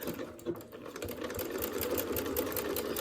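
Close, steady whir of a sewing machine back stitching over elastic on a fabric door latch cover, a continuous even hum with fast repeated needle pulses throughout.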